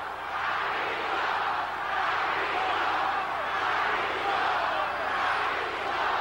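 Large arena crowd at a 1997 WWF wrestling event, chanting in a steady, swelling roar that holds throughout, heard from a distance without a commentator speaking over it.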